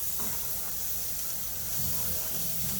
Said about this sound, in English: I'm going to do the saute the corn and the bacon first.